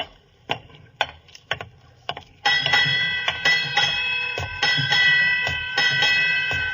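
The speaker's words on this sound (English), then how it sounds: "8 bells." A ship's bell strikes eight bells, sharp metallic dings at intervals, followed by a steady mechanical clatter and hum in the background.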